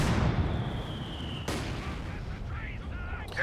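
Mortar rounds and machine gun fire in a Company of Heroes 2 World War II battle: a sharp impact bursts out, then a second crack cuts through ongoing rumble, with scattered battle noise trailing after.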